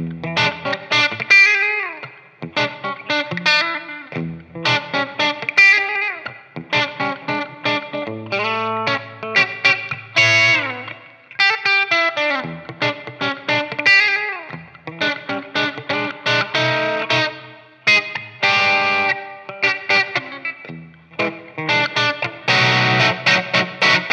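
Ibanez GRG121DX electric guitar with IBZ6 humbuckers played through heavy distortion, loud chugging riffs and chords in bursts with short gaps, recorded straight to mic with no speech.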